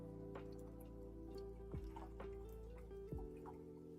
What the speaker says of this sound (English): He does not like the sound of water. Paintbrush in water.